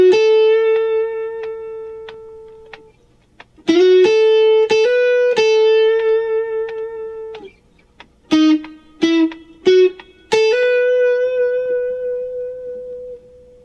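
Electric guitar riff from the B section of a song, in the style of its session guitarist, played clean as several sustained bent and slid notes in short phrases separated by brief gaps, loud and close with no talking.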